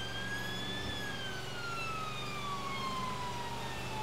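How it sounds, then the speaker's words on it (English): A Mercedes Sprinter ambulance on a blue light run sounds its siren in a long wailing tone that rises briefly then slowly falls, loud and steady over low road and engine rumble. "I'll change siren tones if necessary."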